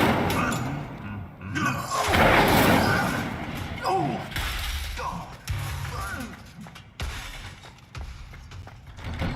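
Incendio fire spell cast in the Hogwarts Legacy video game: a rush of bursts and heavy thuds swelling then fading, followed by scattered impacts and crackling over busy game ambience.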